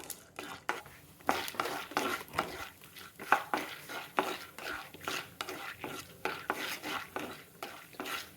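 Chopped cashews and broken chana dal roast in ghee while being stirred, making rhythmic metal spoon scrapes and clinks against the pan about twice a second, close and moderately loud, with a faint sizzle underneath.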